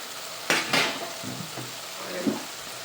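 Guar beans and soybeans cooking in masala in a pan, with a low sizzle under a few clinks and scrapes of a spoon against the metal, close by and with no talking.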